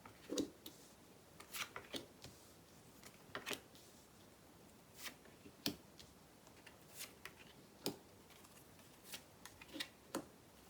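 Tarot cards being shuffled and drawn, a faint quiet room with scattered crisp card flicks and slaps in irregular bursts, no talking.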